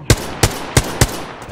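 Four sharp, evenly spaced gunshots from a weapon in Apex Legends, close and punchy, each with a short tail, in a brief burst without speech.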